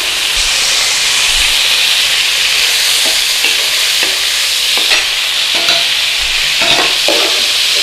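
A kilo of lamb sears in a pot for a traditional Lancashire hot pot, loud and continuous hissing sizzle with occasional stirring scrapes and clatter.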